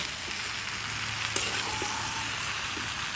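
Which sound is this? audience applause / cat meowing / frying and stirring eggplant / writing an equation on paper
frying and stirring eggplant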